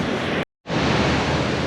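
River near Glacier National Park, a broad, loud rushing wash of flowing water that cuts out briefly and then resumes just as strong, with no voices.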